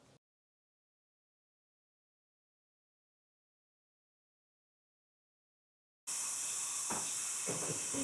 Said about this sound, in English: We use the steam gun to soften the actual glue, and the wrap makes it easy to remove.